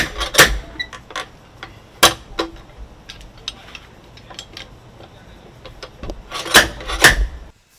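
Nails being pried and knocked out of old reclaimed timber beams salvaged from local homes: a few sharp, loud metallic clanks and knocks in clusters, with quieter scraping and rubbing of metal on wood between them, no talking.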